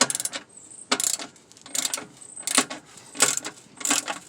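Metallic clicking and ratcheting from a socket wrench backing out corner bolts on a Toyota Tacoma rear bumper, coming in several short bursts with brief pauses between, close by and fairly quiet.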